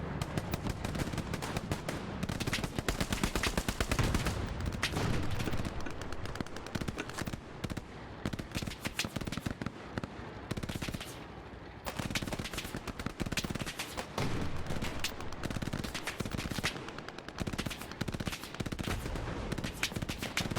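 Sustained automatic gunfire from a machine gun nest in the World War II shooter Hell Let Loose, dense rapid bursts rattling nearly nonstop with scattered heavier shots, loud and close throughout, no talking.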